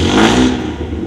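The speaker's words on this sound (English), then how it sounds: "It's not revving the way it's supposed to be." A carbureted Datsun 240Z engine revs sluggishly, a brief loud rising roar that fades back down within about a second, heard close from inside the car.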